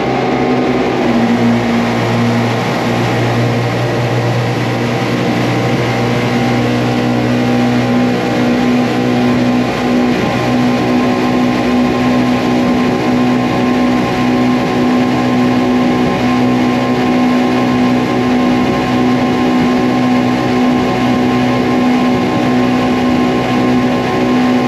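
A Yamaha boat's engines roar at wide open throttle, a loud, steady, continuous drone with a constant pitch throughout and no talking.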